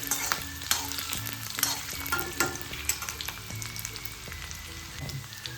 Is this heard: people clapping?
no